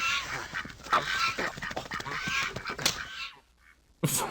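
Geese honk and squawk in a dense, clamorous burst from the Windows 3.1 game Stowaway!, continuing loudly for several seconds before cutting off, then one brief loud blip.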